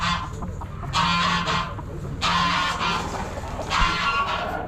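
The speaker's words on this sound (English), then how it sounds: "A couple trios of pheasants." Pheasants kept in breeder pens call out in several loud, repeated bursts, harsh squawking cries close by with background chatter of other fowl, no talking.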